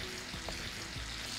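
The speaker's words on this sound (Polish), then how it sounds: "I dorzucę do smażonego mięsa." Bacon and diced onion frying in a pan, with a steady, close hissing sizzle and faint stirring scrapes and no talk over it.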